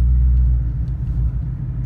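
A 2017 Ford Mustang 5.0 V8 cruising with a deep, steady low engine rumble heard from inside the car, loud and continuous with no voices.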